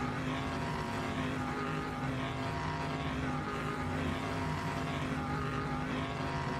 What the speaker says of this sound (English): Wait to hear the revs rise.